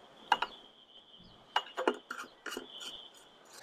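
A new oil filter being tightened by hand onto a Jeep Cherokee 3.2L V6 engine, heard as a few close scraping, clicking plastic-on-metal turns with short gaps over a faint steady tone.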